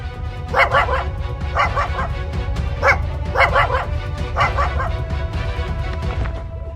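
A dog barks in quick clustered bursts of two or three sharp yips, repeating about five times close by over a steady low rumbling background.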